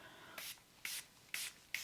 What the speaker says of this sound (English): I'm gonna blast the shit out of my face with this one size setting spray